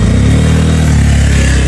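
A motorcycle engine runs loud and close, a steady rumbling drone held throughout the short stretch with a slight rise in pitch, and no voices are heard.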